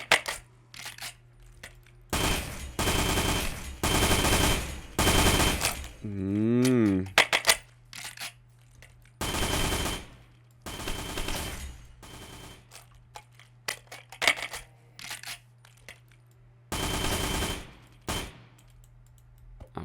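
A modded gun in a mobile shooting game fires automatic bursts, several loud sustained rattling volleys separated by short pauses, with someone talking between them.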